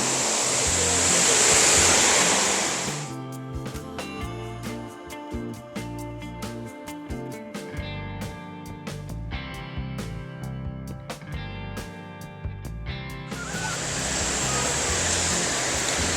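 An artificial waterfall in a landscaped outdoor setting in Dubai pours with a loud, rushing roar at the start and again at the end, while quieter tonal sounds fill the stretch between.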